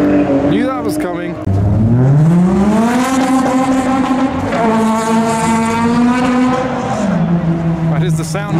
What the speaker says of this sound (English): That is the sound of VTEC.